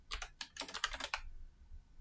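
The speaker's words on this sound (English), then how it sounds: "we're going to go with just typing in disk partition right here on the search bar" Fast, steady typing on a computer keyboard: a dense run of crisp key clicks for about a second, then quiet, with no voices.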